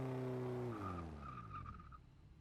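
Porsche 944 Turbo burnout in Forza Motorsport 6, a strong engine tone that drops in pitch as it winds down, with a brief squealing tire whine in the middle, fading toward the end with no voices.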